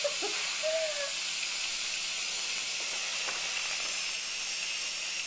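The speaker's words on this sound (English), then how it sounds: "Time to pressure release." An Instant Pot's quick pressure release lets out a steady, loud hiss of steam that holds at an even level throughout, with a faint squeak near the start.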